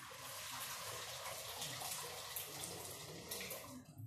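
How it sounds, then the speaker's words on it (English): Boiled water pours steadily into a large saucepan, a continuous splashing gush that stays even and fairly close before tapering off at the end. "I'm gonna be adding my boiled water into a huge saucepan"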